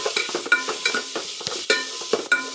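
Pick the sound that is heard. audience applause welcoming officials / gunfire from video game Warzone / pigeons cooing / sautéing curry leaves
sautéing curry leaves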